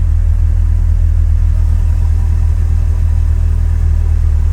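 A Corvette C3 engine idles close by with a loud, steady, deep rumble, and the revs rise only slightly when a little throttle is applied.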